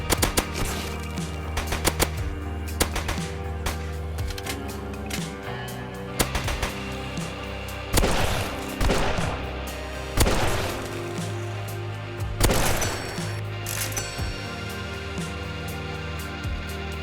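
Dense, loud bursts of handgun fire in the zombie survival game Stay Home, shots arriving in rapid clusters with brief gaps between them, likely for reloading, and no talking.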